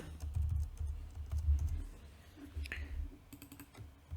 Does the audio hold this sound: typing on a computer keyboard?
yes